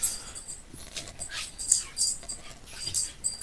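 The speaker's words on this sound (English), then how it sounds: "No, my dog's spazzing out." Small dog whimpering, yipping and panting while running around a room, a continuous restless stream of high whines and scuffling at moderate volume with no talk.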